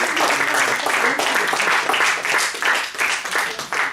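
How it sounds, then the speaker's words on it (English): Audience applauding humorous speech contestants at a speech contest, steady scattered clapping from a modest crowd lasting several seconds. "Let's all give a round of applause to our humorous speech contestants"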